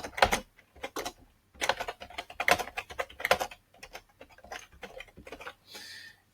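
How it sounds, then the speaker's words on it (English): Computer keyboard typing in quick clustered bursts of crisp clicks with short pauses between, close and fairly quiet, no one talking. "let's type something in there"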